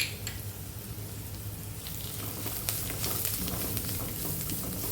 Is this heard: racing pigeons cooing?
no